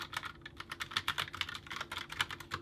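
Fast, steady click-clack typing on a computer keyboard at a purple desk setup, close and crisp, with continuous overlapping keystrokes.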